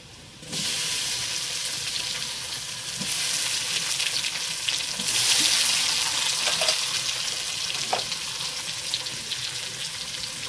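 Onion and tomato frying in a pan for chicken egg chow mein, a loud continuous sizzle that swells as more goes in, with occasional spatula scrapes and stirring clicks.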